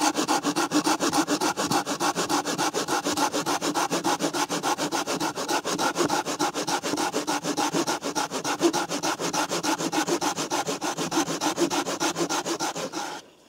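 A folding hand saw cuts through wood in quick, even back-and-forth strokes, a rasping rhythm that continues nonstop until it stops near the end.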